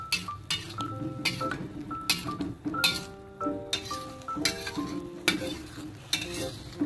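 Lemongrass stalks are stirred into a spice paste in a pan, giving a soft sizzle under repeated scraping strokes and sharp clinks of a utensil against the cookware, coming in an irregular rhythm close up.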